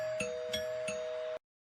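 A doorbell-style ding-dong chime sounds during a live wrestling post-show, three bright chime strikes at even intervals over a steady sustained tone, then abrupt silence.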